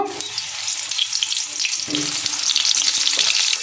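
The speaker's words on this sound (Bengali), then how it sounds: "তেল গরম হয়ে গেছে দেখুন, একটু লবণ দেব, লবণ দিয়ে পটল ছেড়ে দেব।" Salted pointed gourd (potol) fries in hot oil, producing a loud, close, crackling sizzle that swells and grows busier partway through, with no talking.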